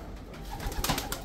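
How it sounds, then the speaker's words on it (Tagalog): Ice pigeon cooing nearby, a short soft coo rising in the second half over a low, steady background. "Ganyan yung ice pigeon. Ito yung normal lang."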